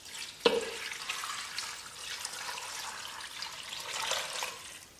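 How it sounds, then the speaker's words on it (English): Tap water running into a pot of chicken and onions for bone broth, a steady broadband splashing and trickling that starts with a brief clatter and continues evenly, close by. "And then you add water."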